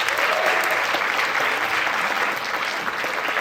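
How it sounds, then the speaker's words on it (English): A theatre audience at a cabaret fundraiser applauds with sustained, dense clapping that carries on steadily throughout. "So round of applause for you for being here and supporting the arts."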